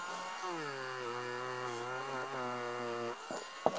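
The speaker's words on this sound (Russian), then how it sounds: "я от рукоятки до середины лезвия отполирую с пастой и посмотрим разницу до и после" A Dremel rotary tool polishes a Mora knife blade with paste, a steady high whine with rising harmonics that holds for about three seconds, then cuts off into a few brief clicks and knocks.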